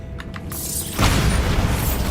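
A Bombarda spell in Hogwarts Legacy detonates as a single heavy boom with a rumbling tail, following a few faint clicks in an otherwise quiet scene.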